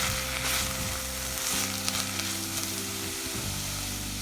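Onion, tomato and green chili fry in a pan and are stirred, making a continuous close sizzle with a few scrapes and light knocks of the spoon, and no voices.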